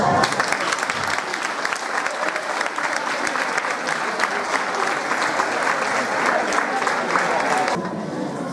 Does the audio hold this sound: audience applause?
yes